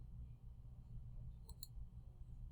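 A computer mouse clicked while working in a spreadsheet, two quick faint clicks in close succession against low background hum.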